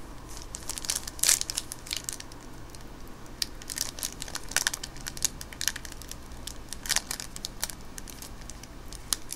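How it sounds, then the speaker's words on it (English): My Little Pony Series 1 trading card packs being torn open, with faint, close crinkling and tearing of foil wrappers in irregular bursts over quiet background, no voices. "Man, these packs are really hard to open."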